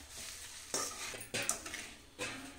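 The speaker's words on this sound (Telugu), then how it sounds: "మొత్తం పోపు అంతా కలిపేలాగా కలుపుకోవాలి" Washed poha stirred into a tempering in a pan, with several close, scraping spoon strokes and a soft sizzle underneath, no voices.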